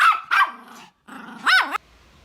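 A man imitates a dog with voiced barks and growls, a few loud, close, harsh yelps in quick bursts with short gaps between them.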